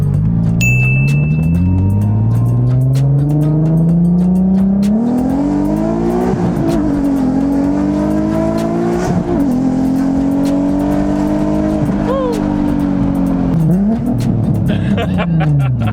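A Nissan 370Z's exhaust rumbles and climbs as the engine revs up through the gears, loud and close, with a few voices faintly mixed in.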